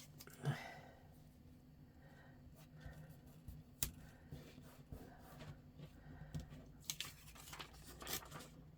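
Medical tape is pulled and torn in short, quiet rips and crinkles, scattered irregular bursts against a near-silent background.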